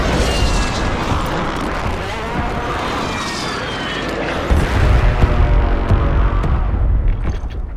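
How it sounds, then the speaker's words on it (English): Mortar strike explosions in the video game Warzone come as a dense, continuous roar of booms and crashing debris, loud throughout, with a heavier low rumble swelling in the latter half. "Friendly mortar strike on the way."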